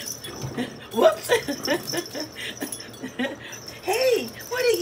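A dog recovering from mange plays with a toy, giving soft whimpers, yips and playful growly noises nearby while a person talks.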